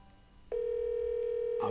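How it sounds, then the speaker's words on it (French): WhatsApp video call ringing out on an iPhone 7: after a brief quiet start, a steady unbroken outgoing call tone rises and holds loud and clear, with a short burst of another sound at the very end. "Donc je suis en train d'appeler quelqu'un par vidéo."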